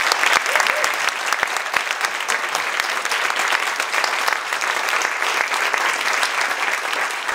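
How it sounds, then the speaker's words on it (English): Sustained, enormous round of audience applause at a Bushwick community panel discussion, dense clapping filling the room steadily from start to end with no break. "we need an immediate and enormous round of applause for Hrag"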